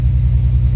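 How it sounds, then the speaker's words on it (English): A cold Nissan 300ZX engine idling slightly rough, a steady low rumble with a faint uneven pulse, close and continuous with no talk; an exhaust joint between the mid pipes is said to rattle. "when it's cold, obviously it idles a little rough compared to when it's warm"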